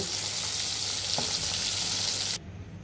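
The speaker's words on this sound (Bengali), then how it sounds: "আমাদের বাকি 2 পিস মাছ ভাজা হয়ে গিয়েছে" Fish pieces frying in oil for a mustard fish curry give a loud, dense, continuous sizzle up close, which drops suddenly to a quieter hiss near the end.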